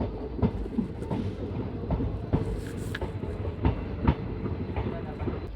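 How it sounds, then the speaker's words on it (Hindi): Passenger intercity train on the Shri Ganganagar–Ambala line running at about 110 km/h, a steady loud rumble with rhythmic clickety-clack of wheels over rail joints and periodic sharp knocks, heard from inside the carriage with no talk. "पूरी 110 पे चल रही है ट्रेन।"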